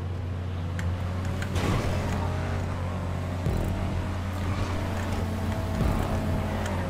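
Car engine in GTA 5 Online, likely the LG Retro Custom, a continuous throaty drone that rises and falls with revving and shifting, loud and close, with no talk.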